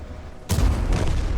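A Leopard 1 tank's main cannon fires once in a video game, a sudden loud boom with a heavy low rumble that lingers after the blast.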